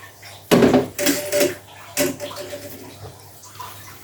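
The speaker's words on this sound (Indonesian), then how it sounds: "Kita tuang sedikit-sedikit dulu ya." Rice flour and palm sugar mixture poured a little at a time through a strainer, giving several short wet splashing bursts with light clinks of utensils, close by and fairly loud.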